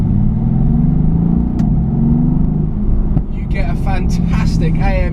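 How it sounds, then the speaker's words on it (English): Mercedes-AMG GT S with a twin-turbo V8 gives a deep, steady exhaust rumble throughout, with a voice talking over it near the end. "You get a fantastic AMG exhaust note"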